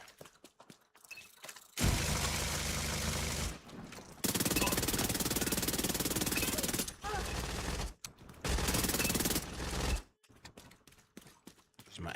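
SMG fire in The Division 2 comes in three long, loud, dense bursts of rapid automatic shots, separated by short pauses, with quieter mechanical clatter at the start and end.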